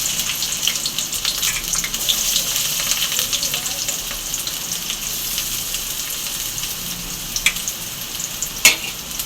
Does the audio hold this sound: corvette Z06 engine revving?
no